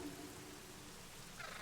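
Steady rain hisses softly in the Myst V: End of Ages game world, an even, faint wash with no voices over it.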